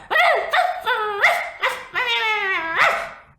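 A loud, close run of barks, yips and a howling yelp comes in quick succession, about eight calls in a little over three seconds, with nothing else heard between them.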